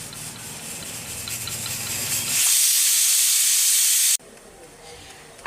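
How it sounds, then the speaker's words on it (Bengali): Pressure cooker boiling potatoes, releasing a loud, close, steady hiss of steam that builds into a strong whistle before cutting off abruptly, leaving quieter kitchen noise. "এখন আমি প্রেশার কুকারের ঢাকনাটা বন্ধ করে দিলাম আর এটাকে দুটো হুইসেল দিয়ে নিচ্ছি"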